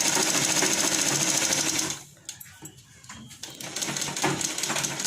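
A sewing machine stitches a seam on a fancy-neck blouse with a steady close mechanical whirr, pausing briefly midway before resuming.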